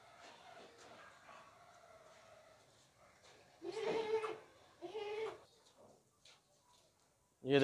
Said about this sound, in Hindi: खूबसूरत बकरा है।